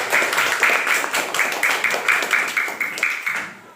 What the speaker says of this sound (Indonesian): Tepuk tangan untuk Mas Muhammad.